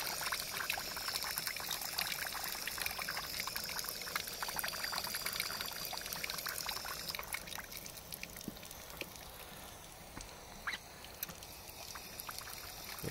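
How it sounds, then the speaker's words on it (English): Water steadily trickling and spattering from the leaking handle of a vintage Crane drinking fountain with a built-in drain, a continuous close pour with no speech. "The handle's leaking a lot"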